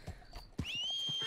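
A horse in the Red Dead Redemption (RedM) roleplay game gives a short snort, then a sustained, close, fairly loud whinny-like call over faint ambient game noise.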